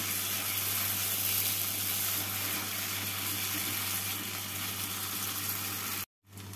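Sugar being stirred into frying spices for Peshawari chana masala, a steady close sizzle with a faint low hum underneath, running evenly before cutting off abruptly near the end.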